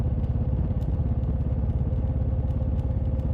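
A motorcycle engine rumbles steadily on a dark late-night ride, a low pulsing throb with a faint mechanical clatter, close and continuous with no voices.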